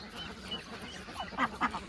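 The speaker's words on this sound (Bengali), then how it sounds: "হাঁস কিন্তু খাচ্ছে, দেখুন" Ducks at a large duck farm, gathered at spread-out feed, with low farmyard background and two short, fairly close quacks near the end.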